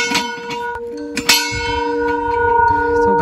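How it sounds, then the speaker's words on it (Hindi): Bells at a Hindu mother goddess temple in a village ring with clanging strikes early on, then a sustained metallic tone lingers and hums, with nearby voices faintly in the background. "घंटी हमने बजा दी"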